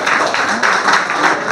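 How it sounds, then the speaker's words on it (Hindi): A school audience at a career counselling seminar gives a burst of applause, dense rapid clapping from many hands that carries on steadily throughout. "हमारे इस सभा में ताली बजाकर"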